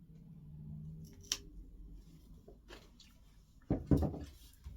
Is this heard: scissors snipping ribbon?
yes